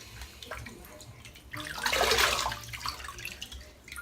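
Water is splashed onto a face from cupped hands before a shave, producing a short wet swell of splashing and dripping near a sink. It peaks briefly in the middle and then fades to quiet trickles.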